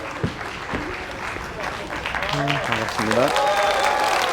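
An audience at a youth party members' training event and talk concert in Iksan claps steadily to welcome a speaker. Someone speaks briefly over the applause in a hall.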